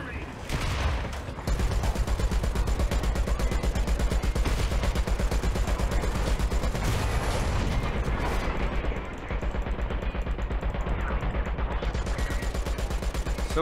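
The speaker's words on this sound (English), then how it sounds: "Someone's shooting for us" Sustained rapid gunfire from a War Thunder tank and plane battle, loud and dense, running almost the whole time with a brief lull midway, busy with mechanical clatter.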